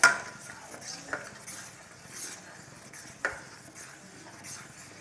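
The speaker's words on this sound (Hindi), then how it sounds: "इसके बाद ये हम इसको ऐसे चलाते हुए लगातार पकाना है।" A caramel pudding mixture of bread, custard and milk powder is stirred continuously in a pan over medium heat, with soft scraping strokes and occasional light utensil clinks, fairly quiet and close.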